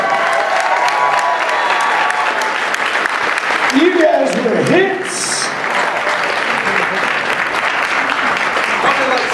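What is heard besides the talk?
applause and cheering for Team 4-Star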